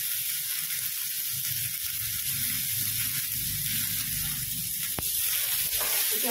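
Corn, capsicum and onion sizzle steadily in a hot pan, a constant close frying hiss with faint stirring and a brief sharp tap near the end.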